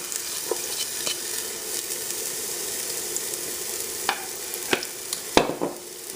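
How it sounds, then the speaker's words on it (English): Carrot pieces fry in warmed oil with a bright, continuous hiss dotted with sharp pops and crackles, close and fairly loud with no talk. "we're going to go ahead and put our carrots in because I think our oil has warmed up"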